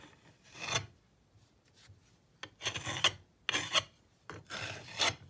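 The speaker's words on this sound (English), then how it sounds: "Then you want to have a piece of plate like this. And we're going to scrape this off." A metal plate scrapes excess sand off a sand-casting flask in several rough, rasping strokes. Quiet pauses separate them, and the scrapes grow more frequent toward the end.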